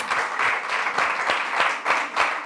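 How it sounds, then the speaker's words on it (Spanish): Sustained audience applause for a performer at the close of a Spanish variety show, dense steady clapping that rises and falls slightly in waves, with no talk over it. "le damos un fortísimo aplauso a un artista que se lo merece"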